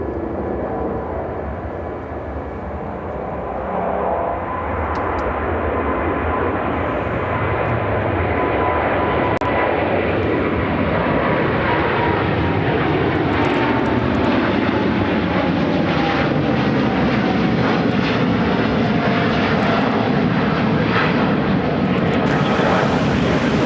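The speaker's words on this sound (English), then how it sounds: "This is American Airlines 160 taking off to Athens, Greece on the 787-9 Dreamliner" An American Airlines Boeing 787-9 Dreamliner takes off, its jet roar swelling from a lower rumble to a loud sustained blast with a clear falling whine sweeping through as it passes, no voices present.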